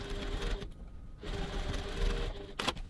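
A sewing machine stitches a crossbody bag from the gusset side at a 2.4 stitch length, whirring in two short bursts with a brief pause between, close and fairly quiet, followed by a short sharp clack.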